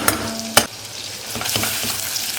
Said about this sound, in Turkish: Birazcık karıştırayım.